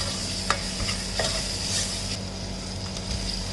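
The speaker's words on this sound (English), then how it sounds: "Now we're going to add some sliced tomatoes to it." Sliced tomatoes and vegetables sauté in a hot pan for a vegetable pulao, a steady close sizzle with occasional light stirring clicks.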